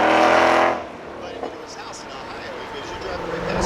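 A 2020 Ford GT500 race car on the track at the Carlisle Ford Nationals roars loudly at close range for under a second, then drops to a fainter, steady engine rumble as it pulls away, with voices under it.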